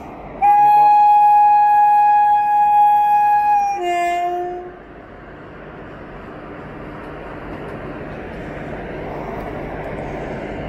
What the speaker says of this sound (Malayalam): അപ്പോൾ ട്രെയിൻ പുറപ്പെട്ടു.